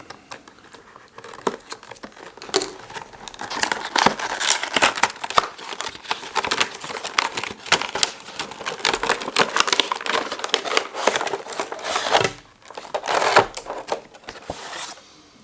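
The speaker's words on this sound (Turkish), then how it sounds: "Kutumuzu açalım." Cardboard box packaging for a PoloSmart PSG05 gamepad being opened, with plastic and paper crinkling and rustling close up in a steady, busy run that briefly pauses before resuming.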